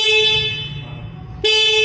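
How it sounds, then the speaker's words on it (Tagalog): A QJ Motor SRV 600V cruiser motorcycle's horn blares loud and close in a bright, steady tone that dips briefly and then blasts again at full strength. "Pakinggan natin itong kanyang horn."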